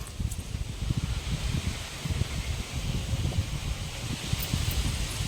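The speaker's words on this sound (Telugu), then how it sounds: "మస్తు అంటే మస్తు గాలి పెడుతుంది" Wind rustles through leaves at a temple in a steady, continuous wash with soft gusty swells and no voices.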